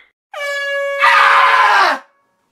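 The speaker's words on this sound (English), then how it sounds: "Why are you blowing that stupid air horn at 3 a.m?" A cartoon air horn blares loud and close, one long sustained blast that turns harsher and noisier midway before cutting off after about two seconds.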